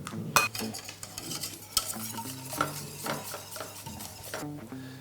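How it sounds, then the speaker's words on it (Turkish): A utensil stirs a baklava cream mixture in a pot while egg is added, close scraping and light clinks against the pan over a low steady hum, with no talking. "Yavaş yavaş karıştırmaya devam ederken şimdi yumurtamı ekliyorum içerisine"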